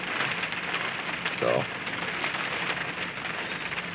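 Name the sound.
rain dripping outside a truck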